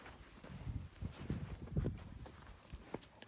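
A yearling filly's hooves step sideways in a few soft, uneven clip-clops close by, with faint handling noise and no talk.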